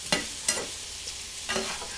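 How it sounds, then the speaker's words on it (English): Garlic frying in a pan on medium-high heat gives a quiet steady sizzle, broken by a few brief scraping stirs of a utensil against the pan. "I'm going to throw a bunch of garlic in there."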